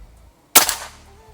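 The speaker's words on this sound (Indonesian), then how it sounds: "Tembakan pertama sebelah kiri ya." A single sharp, loud crack of a PCP air rifle shot fired outdoors in an open area, with a brief trailing decay and no talk over it.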